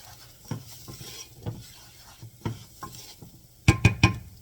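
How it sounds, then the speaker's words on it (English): A spoon stirs paprika into a thick spinach dip in a bowl, giving soft, regular scraping strokes about once a second, then three sharp clinks against the bowl at the end. "Stir that in nicely."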